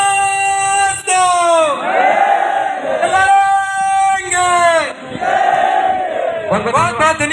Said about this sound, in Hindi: इसलिए साथियों एक नारा लगाएंगे